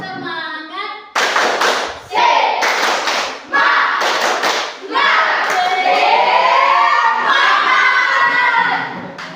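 A class of children performs a rhythmic clapping chant led by a teacher in a classroom, with bursts of loud hand claps and taps alongside shouted group chanting that swells and carries through to the end.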